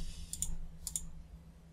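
Two quick pairs of crisp, close clicks as the M key is pressed on a computer keyboard during video editing, set against a quiet room hum.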